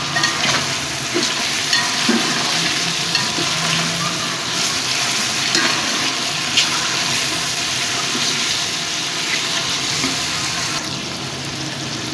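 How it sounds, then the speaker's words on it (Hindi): Chopped tomatoes frying with chicken in a pot for pulao, a loud, dense, continuous sizzle with occasional stirring clatter, close up and steady throughout, easing slightly at the very end. "अब इसमें 2-3 टमाटर कटे हुए डाल दो। इसको भी भून लेंगे।"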